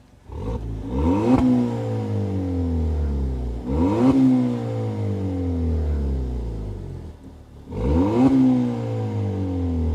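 A car engine tuned to Shiftech Stage 1 is revved three times in quick bursts, each loud blip rising sharply and falling back to idle, heard up close with no talking.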